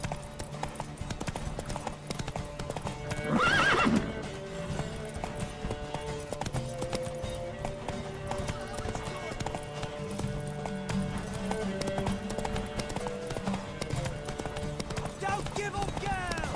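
Horse hooves clip-clop steadily through an in-game scene in The Witcher 3, with a brief louder burst and a possible whinny near the start, under game music and background voices.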